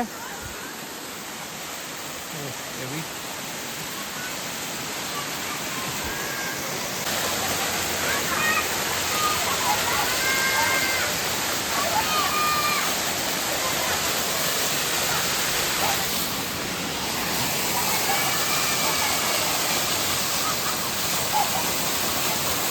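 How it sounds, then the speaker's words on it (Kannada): Elaneeru Falls, a waterfall near Kudremukh in Kalasa, roars as a steady broadband rush of falling water that holds loud and constant throughout, with faint voices now and then beneath the torrent. "ಸೊ ಇದು ಬಂದು ಎಳ್ನೀರು ಫಾಲ್ಸ್"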